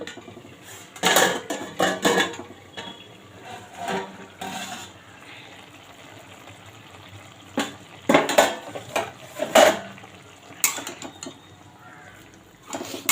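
A steel plate serving as a lid is lifted off a pot of half-boiled bottle gourd for a vegetarian sweet-sour gourd and spinach dish, giving a few scattered metallic clinks and scrapes of crockery, close and fairly loud, with no talking.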